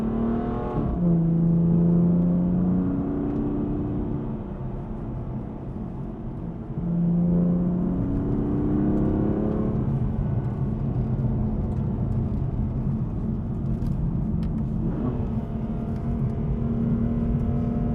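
Car with a dual-clutch gearbox accelerating hard through corners, its engine rising in pitch then dropping as it flicks up quickly through second, third and fourth gears; steady, close and loud, with no talking.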